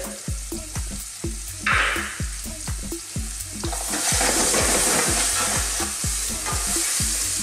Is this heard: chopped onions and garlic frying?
yes